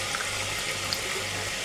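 Water pours onto a small amount of ground cumin and salt to make a spice paste, a brief, steady trickling splash heard alone at moderate volume.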